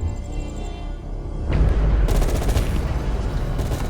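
Gunfire erupts in a Call of Duty Black Ops Cold War firefight, starting from a low rumble and building into dense, loud rapid bursts of automatic fire that continue steadily.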